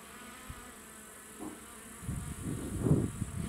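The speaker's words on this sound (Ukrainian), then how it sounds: "Це бджоли там і бджоли." Bees buzz in a steady low drone outdoors at an apiary in Lviv region, Ukraine, growing louder and denser toward the end, with faint wind-like noise behind them.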